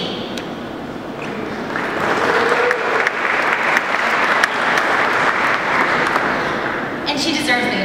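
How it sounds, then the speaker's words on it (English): Applause swells from a conference audience during a telecom industry welcome speech, building to a full, steady round of clapping before easing off, with a voice speaking at the start and end. "And she deserves the applause."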